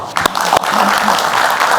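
Studio audience applause on an Indonesian political talk show, a dense steady patter of clapping that carries at full level from start to end, with a couple of sharper bursts near the opening.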